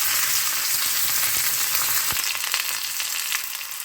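Onion, chili and curry leaves sauté in a hot pan, giving a bright, steady sizzle with a few sharp spatula knocks and scrapes, close and loud, fading slightly toward the end.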